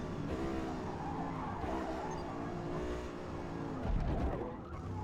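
A C8 Corvette in Forza Motorsport at Le Mans, braking hard from near 190 mph, with a loud steady engine roar and tire squeal that shifts pitch as it slows, no talking.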